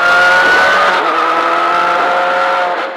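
A Ford Fiesta rally car with a turbocharged 1600 cc four-cylinder engine of 350 horsepower howls loudly and close at high revs, its note wavering steadily before easing off near the end.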